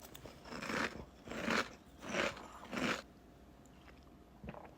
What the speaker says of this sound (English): I wasn't feeling milk in my cereal, so that's why I'm eating it separately.